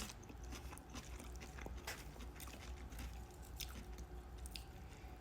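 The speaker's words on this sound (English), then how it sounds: "let's try this connie salad" Close, soft chewing and crunching of kani salad with cucumbers during a sushi meal, a steady run of wet bites and munches with no talking.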